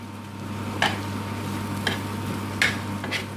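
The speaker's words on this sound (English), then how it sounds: "Mix them very well in." Boiled potatoes for Bombay aloo being mixed and turned in a pan, a few soft scraping clinks spaced about a second apart over a steady low kitchen hum.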